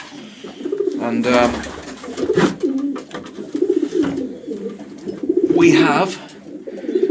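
Pigeons coo repeatedly in a loft, their soft throaty calls swelling in several close bursts while someone talks over them briefly.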